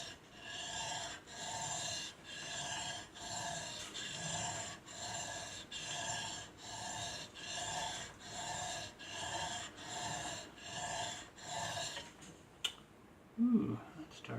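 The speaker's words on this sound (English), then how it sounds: "Now I've got the 400 grit sandpaper out, so it's just a repeat of the same process." A steel chisel stroked back and forth on 400 grit sandpaper, a steady series of about thirteen even rasping strokes at close range, ending with a few handling knocks.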